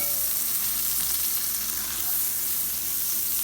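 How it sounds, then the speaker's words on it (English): Butter sizzling in a hot pan to make fried toast for breakfast, a steady, close, continuous frying hiss that holds even across the whole stretch with no talking. "I'm going to put a little butter in there and let it go around."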